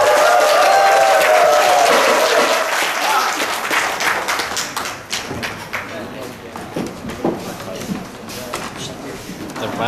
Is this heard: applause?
yes